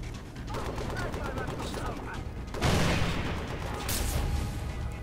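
Far Cry 3 gunfire comes in short, heavy bursts of shots and a louder blast partway through, alongside game mechanism noises. Someone talks over the action.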